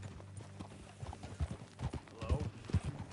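Horse hooves clip-clop on the ground during riding in Red Dead Redemption 2, an uneven run of hoof strikes with a horse snort, over game ambience.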